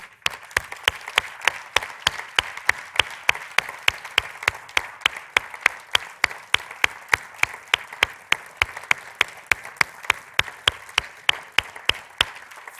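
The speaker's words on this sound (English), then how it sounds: "give them one last round of applause as they exit" Steady, evenly spaced claps ring out in a large convention hall as honorees leave the NCAA honors celebration. The claps are fairly faint and keep a regular rhythm throughout.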